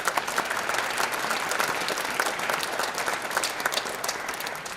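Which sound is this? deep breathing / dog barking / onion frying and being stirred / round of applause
round of applause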